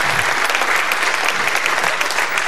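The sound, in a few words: studio audience applause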